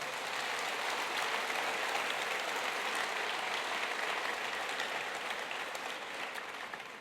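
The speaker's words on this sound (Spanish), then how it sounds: "¿Por qué no le das un aplauso al Señor con todo tu ser?" A church congregation applauds in a steady, sustained wash of clapping at moderate distance, holding even throughout and tapering slightly at the end, with no speech over it.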